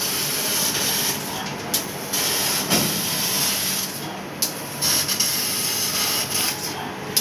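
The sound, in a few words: CNC laser machine cutting a metal sheet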